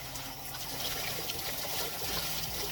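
Shower water running and splashing in a steady hiss, close and continuous, with no voices.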